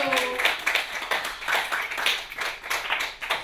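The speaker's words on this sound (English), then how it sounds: "So give yourselves a round of applause for coming out." A comedy show audience at a fringe event claps in uneven bursts, a moderately close crowd whose clapping swells and dips, with a voice briefly heard at the start.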